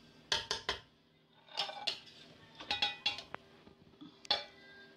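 Chicken yakhni pulao is spooned into a serving dish: a run of close, sharp metallic clinks and clatters of a spoon against the dish, coming in quick clusters with short pauses between.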